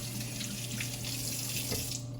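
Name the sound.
water running from a tap for rinsing soapy hands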